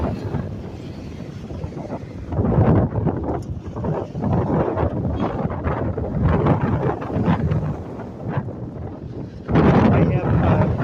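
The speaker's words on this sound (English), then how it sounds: "Check it out, it is super windy today." Strong gusty wind sweeps along Casino Drive in Laughlin, Nevada, buffeting the microphone in loud, rumbling surges that rise and fall over roughly eleven seconds.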